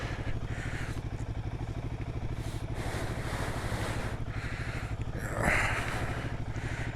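A Royal Enfield Himalayan 450 motorcycle engine runs close by at a steady, even idle with a fast regular pulse and a brief surge of revs near the end, with no voices.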